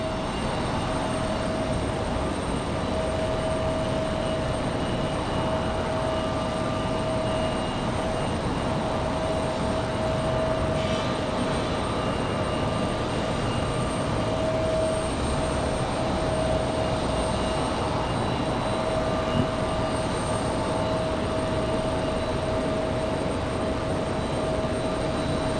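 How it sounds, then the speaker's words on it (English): Cessna Citation Latitude business jet at Raleigh-Durham International Airport, heard as a steady, unbroken jet roar with a faint high whine, holding an even level for about twenty-five seconds with no voices. "Comes our Cessna citation latitude."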